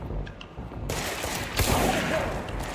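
Gunfire in the video game Control, a sustained loud rattle of rapid shots with a sharp burst of heavier impacts partway through, dense and close with no talking.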